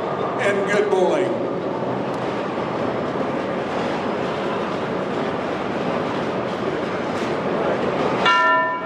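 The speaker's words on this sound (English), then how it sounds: "Bowlers, at the sound of the bell, you may begin your event." A bell signals the start of a bowling event at a tournament hall, ringing out at the beginning and again near the end over a steady roar of crowd and lane noise.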